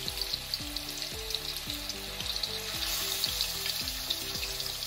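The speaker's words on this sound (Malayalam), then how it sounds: "ഈ സെയിം എണ്ണയിലാണ് ഞാൻ ചിക്കൻ ഫ്രൈ ചെയ്യാൻ പോകുന്നത്." Chicken pieces frying in oil for a Kerala-style chicken perattu, a steady hissing sizzle throughout with a faint tonal melody running underneath.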